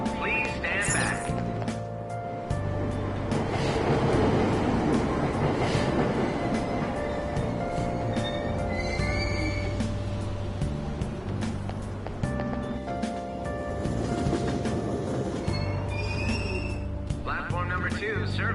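A train departs a station platform in a PS4 video game with a continuous rumble and rattling clatter. Station announcements and voices carry over the top.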